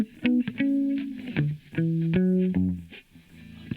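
Electric guitar run through distortion and heavy compression from an Empirical Labs EL8 Distressor, playing a loud phrase of sustained, overdriven notes and chords alone without voices.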